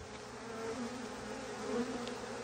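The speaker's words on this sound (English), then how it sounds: "There might be a lot of bees." Honey bees buzz continuously close by, a soft droning hum that swells slightly and fades without pause.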